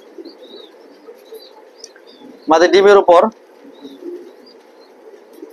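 Racing pigeons in a loft give a brief burst of cooing lasting under a second, loud and close, over a faint background of other birds and soft ambient noise. Someone talks during the clip.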